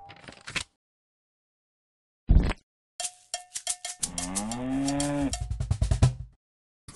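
A Play-Doh Seek and Squish game sounds a cowbell clang, then a drawn-out cow moo ringing through loud cowbell jingles, with a short knock and brief pauses between sounds.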